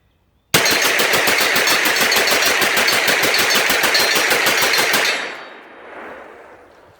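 An MPX-C fitted with a Tac Con trigger fires a full 30-round magazine in one loud, rapid, unbroken string of shots lasting about four and a half seconds, followed by a fading echo.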